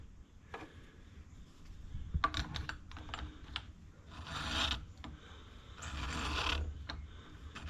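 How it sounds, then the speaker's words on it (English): A valve seat cutter shaves metal from a valve seat by hand in a series of short, faint, scraping bursts of uneven rhythm, up close and quiet. "I can see the metal being cut away"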